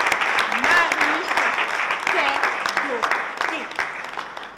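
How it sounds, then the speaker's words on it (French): An audience applauds a speaker at a Toastmasters-style round-table event indoors, dense steady clapping throughout, with voices and cheers mixed in. "Je vous prie d'applaudir très très fort notre collègue Marius"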